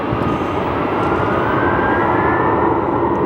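An Airbus A321 with sharklet wingtips departs from an airport runway, its engines a loud, steady broadband roar held throughout with no pause or change.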